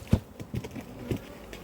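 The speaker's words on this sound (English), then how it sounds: "it's a really great box of bees" Honey bees buzzing in an opened beehive during an inspection, a soft close hum with brief louder passes as individual bees fly near.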